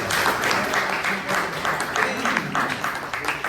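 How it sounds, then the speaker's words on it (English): Members at a Bangalore Toastmasters club meeting give the club secretary a round of applause, a close, busy patter of many hands clapping steadily throughout, with a voice faintly present beneath it. "Please give him a good round of applause"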